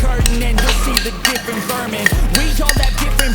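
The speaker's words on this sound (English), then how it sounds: "Give it a lovely mix." Honey and soy sauce being stirred together in a bowl, giving a steady run of soft clinking and scraping from a utensil against the dish, close and fairly loud, with some kitchen sizzle in the background.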